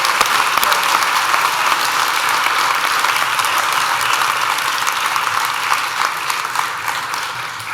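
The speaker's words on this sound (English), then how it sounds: "So let's give him a round of applause." An audience at an MBA inauguration claps steadily and loudly for the full stretch, a dense roomful of hands that eases off slightly toward the end.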